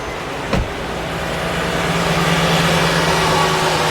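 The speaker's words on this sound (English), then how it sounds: "So as you can hear, the engine is running." A Mercedes E350 engine idles with a steady low hum throughout, with a single sharp click early on and faint background noise.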